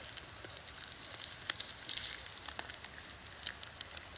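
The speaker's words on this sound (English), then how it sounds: "Oh, it's frying up real nice." Oil sizzles and crackles softly in a fry pan made from a tin can, a steady faint frying hiss dotted with small pops.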